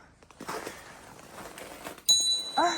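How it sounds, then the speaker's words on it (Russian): A small bell gives a bright single ring near the end, close by and clear, after a stretch of quiet rustling. "Колокольчик."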